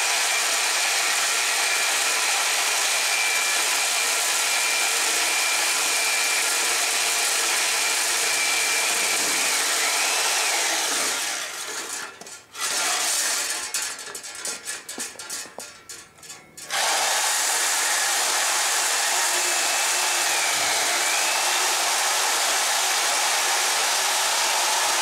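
A portable band saw cuts through steel stock for a twisted-spiral air chiller water separator, a loud steady whine running throughout, briefly dipping and stuttering midway as the cut shifts before resuming at full level.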